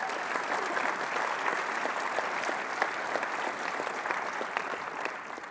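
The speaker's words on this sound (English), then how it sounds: "So give them a round of applause." Audience at a tech conference keynote clapping, dense sustained applause from a large crowd filling the room evenly throughout, steady and moderately loud without breaks.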